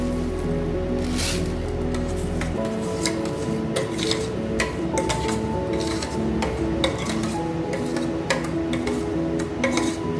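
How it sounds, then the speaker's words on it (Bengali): Sugar is stirred into hot payesh, a Bengali rice pudding, with a spoon that taps and scrapes the pot in irregular clicks over a low, soft background, close by and with no voices. "ভালো করে নেড়ে চেড়ে নিলাম।"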